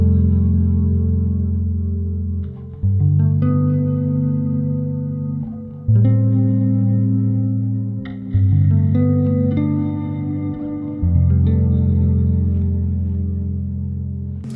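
A guitar runs into an NYXL M300 reverb pedal set for extreme ambient soundscapes, producing loud sustained chords that swell and wash into one another with long, endless tails.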